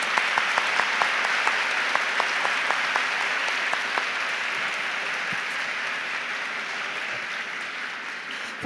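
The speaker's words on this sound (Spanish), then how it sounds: "Fuertes aplausos para el doctor Rodrigo Garza Herrera por esta charla" Steady, dense applause from an audience at a medical talk on arterial and venous disease, holding loud and even for several seconds with scattered sharper claps, then easing slightly toward the end.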